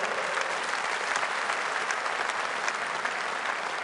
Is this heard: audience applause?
yes